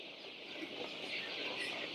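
Chickens cluck softly in a poultry shed of young birds about three weeks old, a faint continuous low murmur of fowl heard at a distance with no talking.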